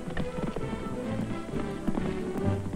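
Horse hooves of a Pony Express rider clatter in a quick, uneven galloping rhythm, fairly close, mixed with a dense rumbling background.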